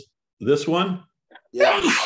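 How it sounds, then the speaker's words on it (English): A single sneeze bursts out after a short stretch of conversation on a Zoom call, sharp and close, with voices talking around it. "Bless you, whoever sneezed."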